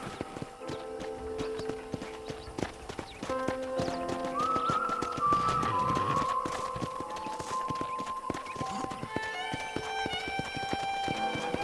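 Rhythmic horse hooves clip-clop steadily throughout in Red Dead Redemption, with a horse whinnying partway through, over a soft background of tonal game music.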